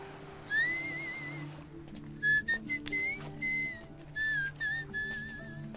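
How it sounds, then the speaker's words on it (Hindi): A person whistles without moving the mouth, a series of clear high melodic whistled notes, first one long sliding tone, then several short bursts and phrases, loud and close with no talking. "आप बिना मुंह हिलाए सीटी कैसे बजाते हो?"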